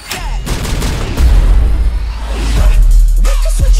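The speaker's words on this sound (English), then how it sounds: "Why are they shooting at me?" A loud, dense burst of gunfire and booming impacts from an action movie car chase, close and continuous across the whole moment, with heavy low rumble under the shots.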